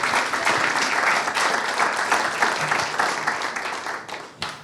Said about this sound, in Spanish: así que pido nuevamente un aplauso y queremos escucharte